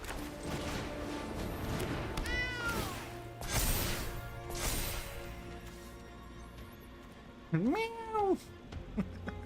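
A cat meows loudly and close, a rising-falling wail, over a background of game music and other sounds, with earlier fainter meow-like calls.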